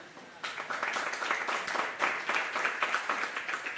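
An audience at a talk breaks into clapping that starts suddenly and holds as a dense, steady patter of many hands.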